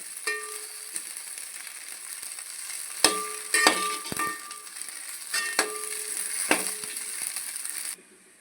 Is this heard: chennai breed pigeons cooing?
no